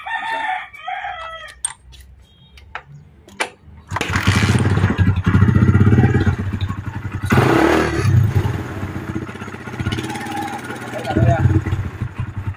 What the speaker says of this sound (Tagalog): maganda naman yung pinaka-andar ng makina niya